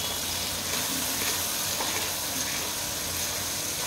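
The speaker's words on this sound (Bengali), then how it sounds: "রসুন দিলাম, পেঁয়াজ বাটা দিলাম অল্প," Garlic and onion paste sizzles in a pan of hot oil, a steady, close and fairly loud frying hiss that continues evenly throughout with no talking.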